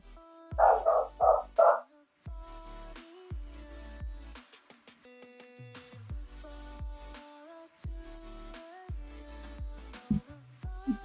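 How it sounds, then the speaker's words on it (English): Several dogs barking in a quick burst of three or four loud, close barks at the start, followed by quieter household sounds. "Dogs decided to lose their minds when Dylan came home."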